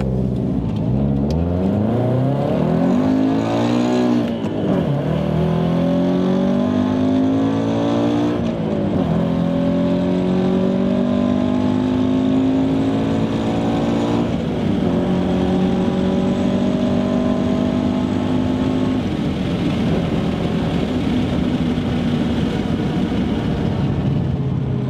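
A Scion FR-S/Toyota 86 engine revs hard through several rising gear pulls, loud and continuous, with pitch climbing and dropping at each shift.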